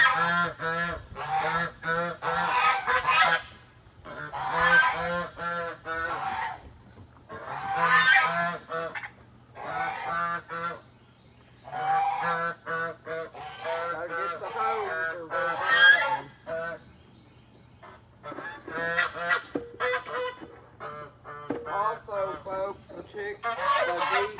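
Geese honk loudly at feeding time in a farmyard with chicks nearby, repeated bursts of harsh, nasal calls coming in clusters with short quiet gaps between them, close to the listener.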